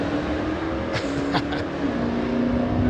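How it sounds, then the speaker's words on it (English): A loud motorcycle passes nearby outdoors, its engine rising briefly in a whining rev and then fading into steady background noise. "That's a loud motorcycle"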